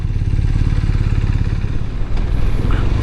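A BMW motorcycle engine idles steadily with a low, even throb throughout, fairly loud and close, with no talking.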